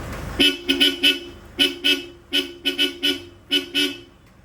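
A loud Europa aftermarket horn on a Nissan Navara blares in a rapid series of short beeps, grouped in quick bursts of two or three with brief pauses between them.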